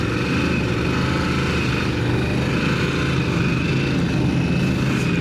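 A 2025 Harley-Davidson Pan America CVO motorcycle engine runs with a steady, loud rumble, holding a constant note throughout without revving or pauses.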